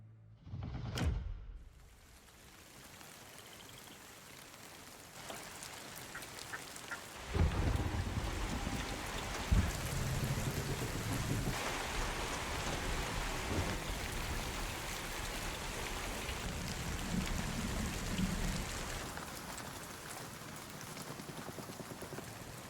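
Steady rain patters and hisses throughout, with a sharp thunder crack early on and deep rumbles swelling in the middle, from the Thundershower weather in the video game Hunt.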